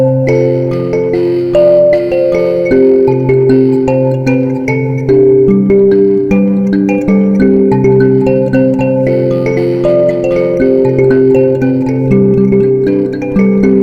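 Mbira playing with the bass and treble parts combined: bright, overlapping plucked metal tines form a steady repeating pattern, moderately loud and close, with no voices.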